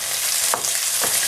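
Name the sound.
large onion lightly frying in oil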